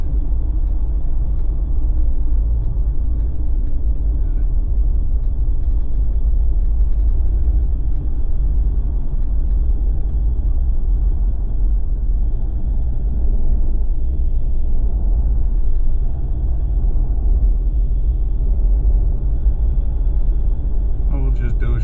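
A car drives along snowy winter roads in Nova Scotia's Annapolis Valley after a big storm, giving a steady, close, continuous low rumble of engine and tyres that holds for the whole stretch with no talk.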